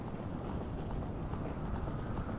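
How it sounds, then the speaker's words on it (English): A horse gallops in the video game Ocarina of Time, a fast, even drumming of hooves running on without a break, alone and at moderate level. "He's just riding a horse through fire and thunder."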